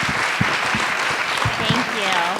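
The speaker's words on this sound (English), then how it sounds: "let's give them a round of applause for thanking them for coming." Applause from an audience at a food and community education event, continuous dense clapping with voices speaking over it partway through.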